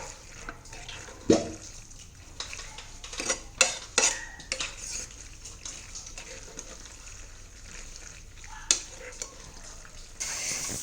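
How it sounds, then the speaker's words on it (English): White sauce macaroni pasta is stirred gently in a pot, making soft scraping sounds and scattered sharp clinks of the utensil against the metal. The sounds are quiet and close, with low background noise. "again I'll stir this gently"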